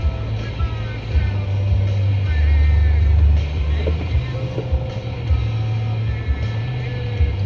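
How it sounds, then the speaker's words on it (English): Heavy trucks idle at a South Dakota interstate truck stop during a blizzard, a loud continuous low engine rumble with wind noise, while someone talks over it. "I'm at a truck stop."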